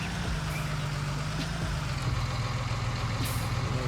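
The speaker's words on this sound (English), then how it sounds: "Now this is the 840 class tractor, so this is 290 horsepower or something." A 290-horsepower 840 class tractor in Farming Simulator 19, hitched for a large foraging wagon, gives a steady low diesel drone with a constant rumble and no talk over it.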